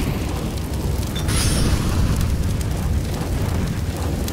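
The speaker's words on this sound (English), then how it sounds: "Molotov! Throwing fire!" Molotov fire grenade bursting during a Counter-Strike match, a dense, steady roar of flame and crackle with a brief bright hiss early on, loud and continuous with no voices.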